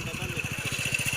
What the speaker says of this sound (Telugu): సునీల్ బైక్ నడుపుతున్న దృశ్యం